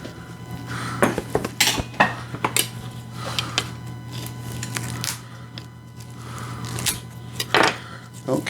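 A metal baking pan for petit fours taken from a cooler and handled, producing a series of clanks, scrapes and rustling knocks at irregular intervals, close by, with a faint background hum.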